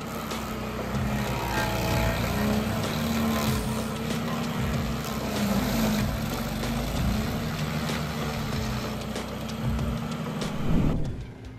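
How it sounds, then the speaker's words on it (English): A Bandit G40 tree stump grinder with a 38 horsepower Caldera 5 motor drones loudly and steadily throughout, with a brief surge in intensity near the end. "The Bandit's G40 tree stump grinder, equipped with a 38 horsepower Caldera 5 motor, emerges as the ultimate solution for stubborn tree stumps."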